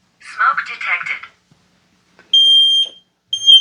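X-Sense smart Wi-Fi smoke detector alarm emitting a loud shrill tone, a long beep followed by the start of another, coming after a synthesized voice announcement.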